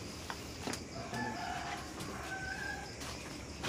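Faint bird calls, a few short tonal chirps and a crow-like call, drift over a quiet outdoor background with occasional clicks.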